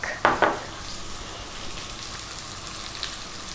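Curry leaves, onion and garlic hit hot oil in a pan for pumpkin fried rice, two sharp spits at first, then a steady, close sizzle with faint pops.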